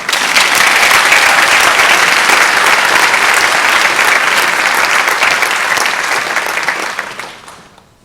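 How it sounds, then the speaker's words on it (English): A loud, sustained round of applause for a new middle school student at an eighth grade rising ceremony, a thick wash of many hands that holds steady and then fades out at the end. "Give her a round of applause"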